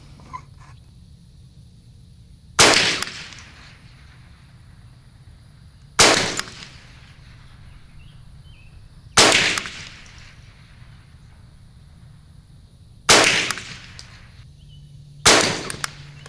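A Savage 64 takedown rifle fires Federal Auto Match ammunition on an outdoor range: five sharp, loud single shots spaced a few seconds apart, each with a brief ringing tail over a quiet background.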